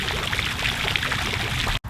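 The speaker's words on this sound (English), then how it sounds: "I like the sound of water." Water flows and pours steadily and loudly close by, a continuous rushing stream with no talk over it.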